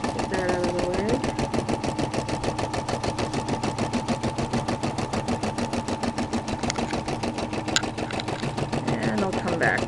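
A Brother SE-400 embroidery machine stitches a satin fill, its needle hammering in a rapid, even mechanical rhythm close by, with brief soft sounds over it.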